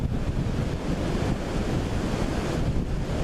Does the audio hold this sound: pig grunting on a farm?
no